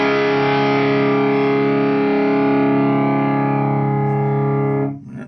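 Guitar runs through a homemade drive pedal with the drive turned almost fully up, giving one thick, distorted sustained chord that rings loud and close for about five seconds before cutting off.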